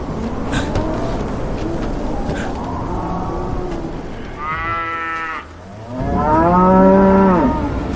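Young calves on a ranch moo in two long, loud, close calls, the second deeper and fuller, over a constant rushing background of wind and noise.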